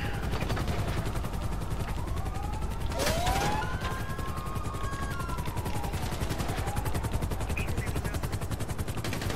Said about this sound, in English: Take out this helicopter.